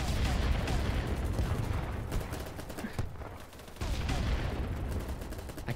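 Dense gunfire fills a large online capture-the-flag match with 254 players, with sniper shots mixed in; rapid overlapping bursts run almost continuously at steady loudness, dipping briefly midway before resuming.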